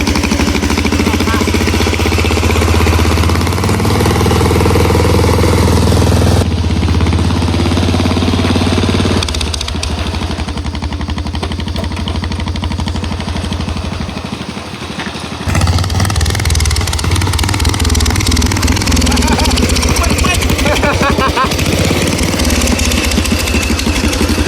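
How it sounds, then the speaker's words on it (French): A modified ride-on lawn mower tractor engine runs steadily and loudly up close, a rough continuous mechanical drone that holds for the whole stretch with slight shifts in pitch and load. "La mémère elle conduit le tracteur."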